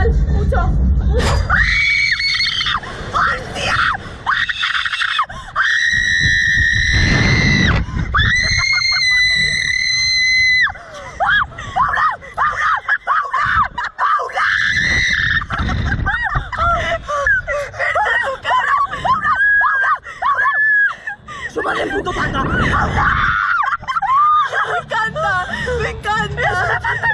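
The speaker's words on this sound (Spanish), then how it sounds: "Pero no puede parar de gritar." A person screams and shrieks repeatedly on the Slingshot amusement ride in Ibiza, long piercing wails broken by gasps and panicked talk from riders, with ride noise and outdoor bustle throughout.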